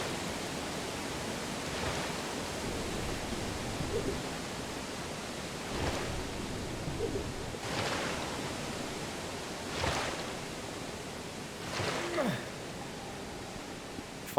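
A waterfall by a hidden tunnel in the video game Monomyth, giving a steady broadband rush of falling water with periodic swelling surges, moderately loud and continuous.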